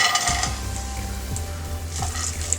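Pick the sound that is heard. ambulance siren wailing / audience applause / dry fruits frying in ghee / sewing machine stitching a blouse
dry fruits frying in ghee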